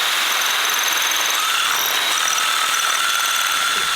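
A power drill with a bit whirs steadily while cleaning old glue out of a golf club hosel, a continuous high-pitched buzzing drone with no talk over it.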